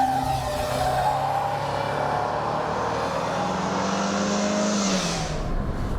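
A Peugeot 205 1.6 GTi or an Alfa Romeo Brera laps a race track, its engine loud and close, revving with rising and falling pitch through gear changes and a final deceleration.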